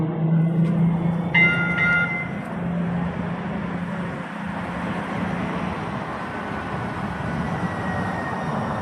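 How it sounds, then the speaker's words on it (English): A train pulling into a station platform, a loud rumbling roll of wheels that carries on steadily, with brief tonal chimes or a horn-like signal early on and no one speaking. "Train is approaching the station."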